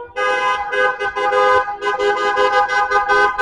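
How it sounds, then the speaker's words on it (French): Taxi horns honk over and over during a taxi drivers' street protest in Bourg-en-Bresse, loud overlapping blasts in an almost unbroken chorus with brief gaps. "la colère du taxi se fait ressentir à coups de klaxon"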